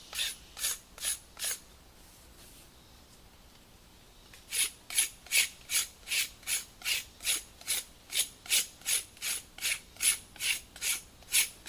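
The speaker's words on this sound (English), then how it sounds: "I just want to show that this can be done doing a regular hand drill." A wooden horseweed hand-drill spindle rubbed against a board for friction fire: a quick run of rasping strokes, a pause, then a long steady series of rhythmic scraping back-and-forth rubs, close and distinct.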